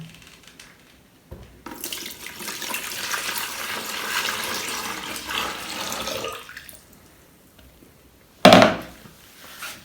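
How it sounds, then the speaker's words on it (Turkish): Water poured into a homemade butter churn machine for ayran, a steady splashing rush that starts after a brief pause, runs for several seconds, then stops before one short, louder knock near the end. "Şimdi suyu koyuyorum."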